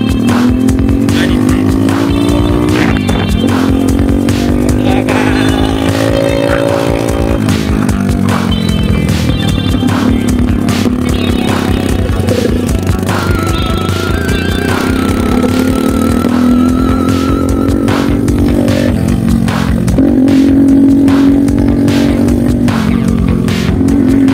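A motorcycle engine revs loudly and repeatedly in a Nepali village, its pitch rising and falling in long sweeps over a steady mechanical drone, close and continuous throughout.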